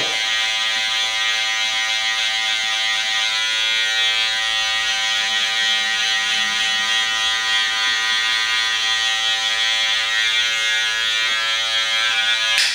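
An electric hair clipper with a guard and its lever set high buzzes continuously while blending a fade haircut, a close, steady high-pitched hum that holds even throughout with no speech.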